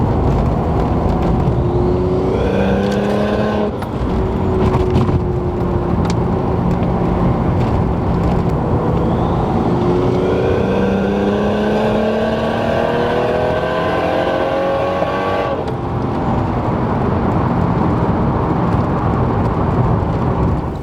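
A turbocharged Lexus IS300 with a CX Racing turbo kit, heard from inside while driving: steady engine and road roar with rising and falling tones as it accelerates and shifts, no talking.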